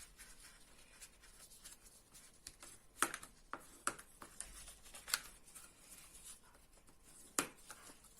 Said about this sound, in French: Nous allons désormais marquer tous les plis.